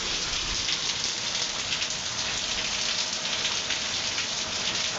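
Heavy rain pouring steadily, a dense, loud and constant hiss of drops on surfaces with no pauses and no talking.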